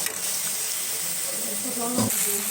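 Turmeric, chilli powder and biryani spices sizzle steadily in a hot pan, a continuous frying hiss with a brief stir-scrape near the end.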